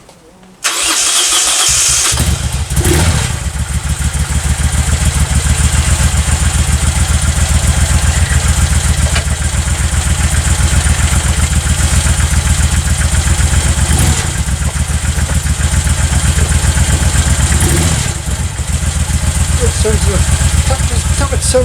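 A Moto Guzzi motorcycle engine fires up and settles into a loud, steady idle close by. It runs continuously with a few small surges in revs, and no talking is heard over it.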